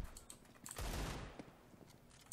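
Gunfire in the tactical shooter Counter-Strike: Global Offensive during a ranked match: a loud burst of shots near the middle, with sharper scattered shots and clicks before and after.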